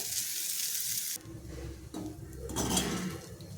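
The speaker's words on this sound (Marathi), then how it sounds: "बारीक गॅसवरती ती व्यवस्थित भाजून घ्यायची आपल्याला" Moong dal roasting in ghee over a low gas flame gives a steady soft sizzle with occasional stirring scrapes, close and continuous with no talking.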